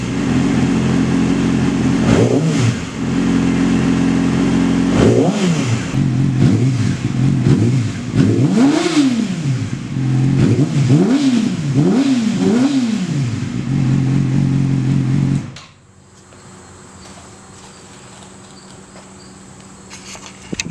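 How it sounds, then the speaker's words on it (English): Yamaha R6 sport bike with a TOCE aftermarket exhaust revs repeatedly, each throttle blip rising and falling in a rhythmic series of loud, close engine swells over a steady idle, then the engine cuts off abruptly, leaving quiet background. "give it a little rev real quick, give it a nice little exhaust clip of how it sounds."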